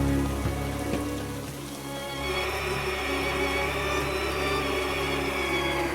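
Steady rain falls without pause, a dense even hiss with scattered drops, continuous and fairly close.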